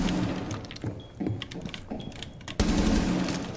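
Bursts of rapid gunfire in a first-person shooter video game, several short volleys separated by pauses, with a heavier sustained burst near the end.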